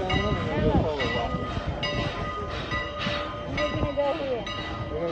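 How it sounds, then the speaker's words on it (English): A train locomotive rumbles steadily nearby while coupling up to a train, with metallic squeals and ringing tones rising over the low rolling noise. "Gonna couple up"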